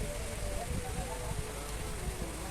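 Steady rain hisses evenly throughout, a dense pattering wash with a faint low hum underneath.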